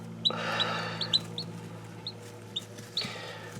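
Ayam Cemani black chickens cluck and chirp in short, scattered calls over a steady low hum, a few sharper notes standing out at moderate distance.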